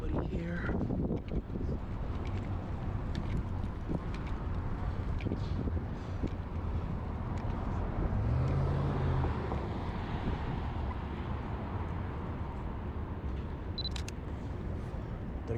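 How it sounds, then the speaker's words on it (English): Wind roars steadily across a New York City street, buffeting the microphone with a loud, unbroken rush for the whole stretch. A voice is faintly audible beneath it. "The wind."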